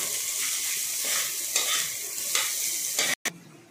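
Ginger-garlic paste, green chilli and chopped tomato frying in oil, a steady close sizzle with spoon stirring scrapes, broken by a brief silent gap near the end.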